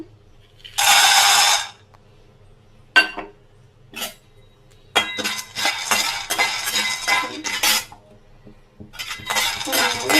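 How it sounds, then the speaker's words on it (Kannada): Shelled peanuts being dry-roasted and stirred in a pan, with repeated bursts of scraping, rattling clinks and pauses between strokes, close and fairly loud. "ಬಟಲ್ ಕಡಲೆ ಬೀಜವನ್ನು ಈಗ ಉರಿಯಲ್ಲಿ ಇಡೋಣ"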